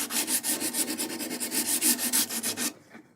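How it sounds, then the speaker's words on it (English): Rhythmic rubbing strokes of a file and sandpaper over black GluBoost Fill n' Finish on guitar fret ends, about a dozen steady close scrapes in quick succession before stopping. "you can come in with a file and level it, and then finish it off with a little bit of sandpaper"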